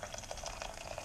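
Boiled water pours over split bean halves, a steady bubbling, splashing liquid sound with no talk.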